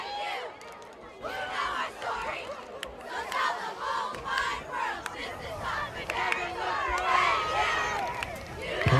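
A high school football crowd at a Durfee vs. Brockton game roars through the kickoff: a dense, sustained wall of cheering and shouting voices that swells and stays loud throughout.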